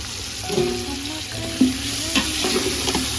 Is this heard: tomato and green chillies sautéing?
yes